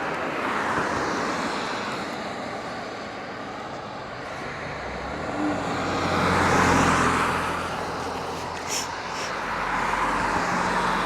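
Cars pass along a road near Putnam Park, Connecticut, their broad tire-and-engine rush swelling and fading in two or three waves over steady wind noise, moderately close, with no talk.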